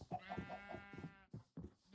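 Sheep in Minecraft bleat in a quick run of short, wavering calls, several in a row, faint and close together with brief pauses between.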